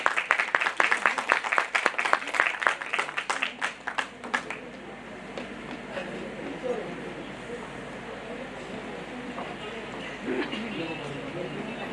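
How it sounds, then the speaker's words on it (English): Audience at a state-level fashion and beauty pageant event in Karnataka applauding, dense close clapping for about four seconds that fades into murmuring crowd noise and a lingering hall ambience. "can we have a big round of applause?"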